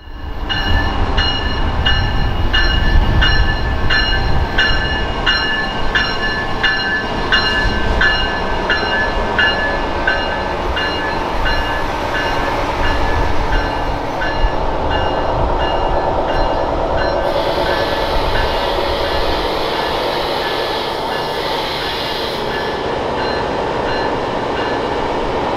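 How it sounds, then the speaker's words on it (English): Amtrak Wolverine passenger train number 350, made up mostly of new Venture cars, rolls into Ann Arbor station with a steady loud rumble, clanking wheels and a brief high squeal of brakes toward the end, with no talking. "we have Amtrak Wolverine service train number 350 arriving into Ann Arbor with a train consisting of mostly new venture cars"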